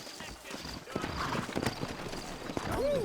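Horse hooves clip-clopping in the video game Red Dead Redemption, a steady run of hoofbeats under a voice, with a short whinny near the end.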